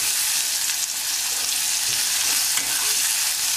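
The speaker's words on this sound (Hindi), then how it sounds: "चम्मच चलाते रहिए धीमे आंच में" A spoon stirring radish chutney (mooli ki chutney) in a pan over low heat, giving a dense, even hiss of frying with faint scraping strokes, steady and close, with no talking.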